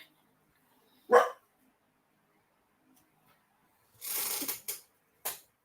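A single sharp bark, then a pause, followed by a rougher cluster of barks and one final short bark, moderately close.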